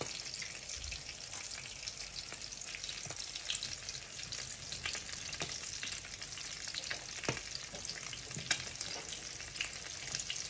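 Whitebait fish sizzle and crackle steadily in hot oil, close up, with scattered pops and a faint clink or two, and no one speaking.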